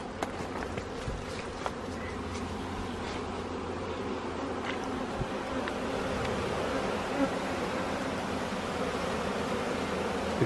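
Honey bees fill a hive built inside an old dishwasher, with brood, comb and pollen, and produce a dense, continuous buzzing hum close by that holds steady throughout, with no talk over it.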